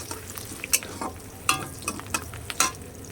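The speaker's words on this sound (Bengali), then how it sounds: "এবার আমি এটা ভালো করে ভেজে নেবো পেঁয়াজটা" Onions fry in a pan while a spoon stirs them, soft sizzling broken by several sharp scraping and clinking strokes at irregular intervals, close up with no talk.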